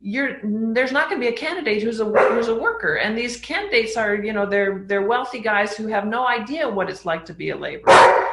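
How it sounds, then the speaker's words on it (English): A dog barks in the background while someone talks steadily over it, the barks mostly buried beneath his voice. "that's my dog barking"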